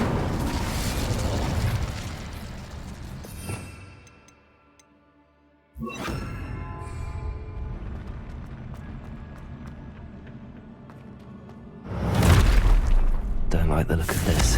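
Incendio fire spell cast in the Hogwarts Legacy video game, heard as loud, roaring fiery bursts with crackling flare, broken by a near-silent pause and then a second strong blast.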